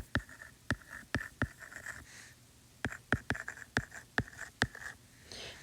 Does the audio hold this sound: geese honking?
no